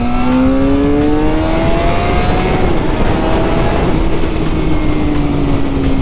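A Suzuki GSX-R sport motorcycle engine revs high outdoors in windy weather, a loud continuous whine rising and falling in pitch over steady wind noise, with no talk.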